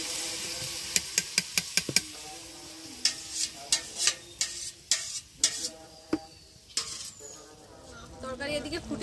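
Utensil scraping and stirring in a pot of spiced fish curry over a fire, a run of sharp clacks and scrapes with a soft sizzle and bubbling beneath, fairly close and moderately quiet.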